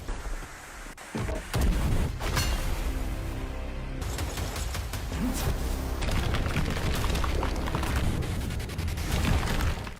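A series of heavy booming blasts with crackling debris and rumbling, dense and loud throughout, like a chaotic explosion sequence in a Perfect World animated series.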